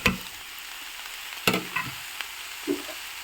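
Vegetable fried rice with fried paneer is stir-fried in a pan: a soft background sizzle broken by several sharp scraping and tossing strokes of the spatula, irregularly spaced.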